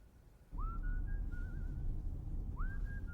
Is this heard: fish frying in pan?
no